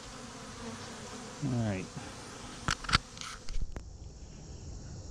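Honey bees buzz steadily around backyard hives during a honey harvest, a constant mid-level hum under a man's short spoken remark, with a few sharp clicks and knocks of handled gear partway through.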